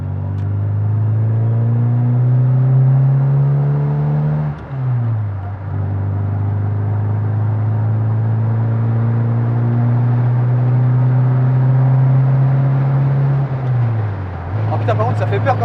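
Austin Mini 40th driven fast, its engine droning loud and steady with two brief dips in pitch like gear changes before climbing again, close in the cabin.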